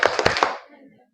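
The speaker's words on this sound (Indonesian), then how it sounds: "Tepuk semangat ceria." A group claps a quick rhythmic chant at a teachers' session, four sharp, close claps in a fast pattern, with a voice fading out after them.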